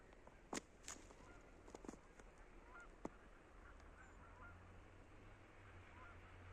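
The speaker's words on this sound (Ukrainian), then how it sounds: "Чуєте, гуси кричать?" Geese honk a few times in the distance over a steady outdoor background hum after the first snow, with a couple of sharper calls standing out near the start.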